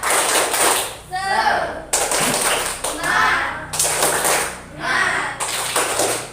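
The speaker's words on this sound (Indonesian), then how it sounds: "Kalau kau suka hati tepuk tangan" Children in a classroom sing "Kalau Kau Suka Hati" while hands clap along in short bursts, rhythmic and close, mixed with their voices.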